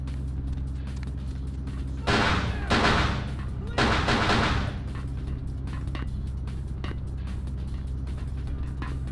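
Shotgun blasts in Vampire: The Masquerade – Bloodlines: a few loud, broad bursts in quick succession, then a longer roaring blast, over a low constant hum.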